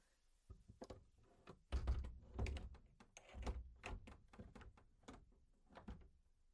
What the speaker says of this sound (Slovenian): Zaklenili bova vsa vrata, da ne bo mogel v hišico.